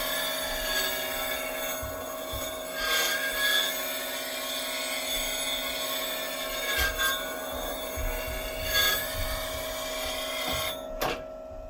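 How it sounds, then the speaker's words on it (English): A wood lathe spins a highly figured black walnut crotch bowl while a tool takes a cleanup cut, a steady high machine whine with intermittent scraping bursts and knocks as the gouge bites. "take a cleanup pass through here"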